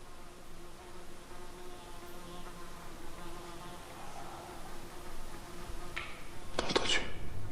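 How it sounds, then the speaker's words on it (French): A housefly buzzing close by inside an abandoned hotel, a thin steady drone that persists throughout, with a faint knock and brief rustle near the end. "elle me fatigue cette mouche"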